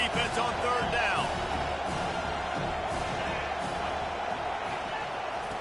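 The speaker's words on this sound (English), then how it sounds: "Decibels rising as the crowd gets behind this defense on 3rd down." Stadium crowd noise in a college football video game, Wyoming at Penn State, swelling loudly on a third-down defensive stand, a dense sustained roar with scattered whoops and thuds.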